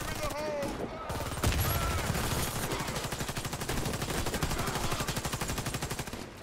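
Rapid automatic gunfire from the video game Warface, a dense run of evenly spaced shots that carries on for several seconds after a brief pause at the start.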